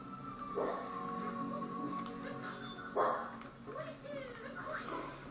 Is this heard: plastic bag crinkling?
no